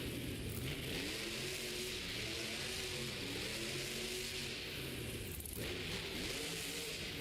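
The Kraken monster truck at a Monster Jam stadium show revs its engine in a loud, continuous rumbling roar with rising and falling throttle swells, heard from a distance amid crowd noise.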